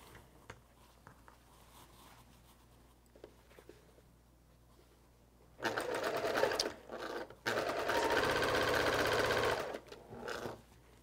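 A sewing machine stitches quilt block seams in two loud close bursts of rapid whirring, separated by a short pause and preceded by quiet handling of fabric.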